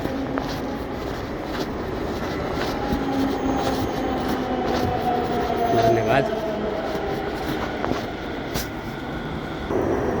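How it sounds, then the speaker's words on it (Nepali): A Delhi metro train pulls into a station platform with a sustained, rising rumble and mechanical whine that fills the whole stretch, while people talk nearby. "5-7 मिनटको पर्खाइपछि म चढेर जाने मेट्रो पनि आइसकेको छ।"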